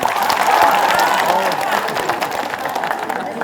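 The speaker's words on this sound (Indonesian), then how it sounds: "Masya Allah, tepuk tangan." Applause from an audience at an Islamic religious study gathering fills the whole stretch, dense and steady, with cheering voices mixed in and slowly easing toward the end.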